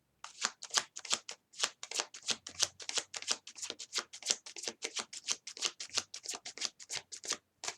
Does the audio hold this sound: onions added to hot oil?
no